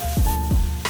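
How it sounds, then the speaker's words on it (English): Onions and carrots get stirred in a hot pan for shepherd's pie, with a steady sizzle under two quick scraping strokes of a utensil and a brief clatter at the end, close and clear with no talk. "Just keep stirring"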